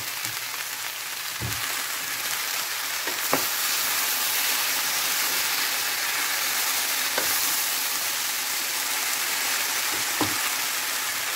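Squash pieces frying in a pan for a Filipino ginataang sitaw at kalabasa dish, giving a steady, loud sizzle with a few sharp stirring clicks and no talking.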